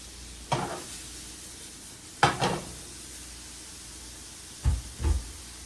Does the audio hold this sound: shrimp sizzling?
yes